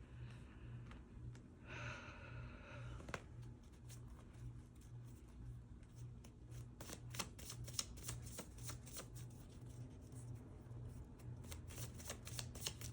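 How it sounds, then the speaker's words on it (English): Tarot cards are shuffled up close in quiet, steady riffling and flicking, with a brief breathy sound early on. "Let me get one more card on this."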